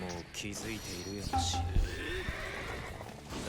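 A horse neighs and whinnies in the video game Samurai Warriors 5, a loud, close call with a clip-clop of hooves, while players talk over the game audio.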